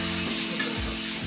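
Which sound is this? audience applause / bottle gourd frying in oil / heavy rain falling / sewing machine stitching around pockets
bottle gourd frying in oil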